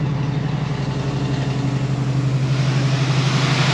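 A Ford 302 V8 in a 1966 F100 runs on high idle in the cold, with a suspected bent pulley or balancer wobbling. The engine holds a steady, loud, even drone throughout, with no talk.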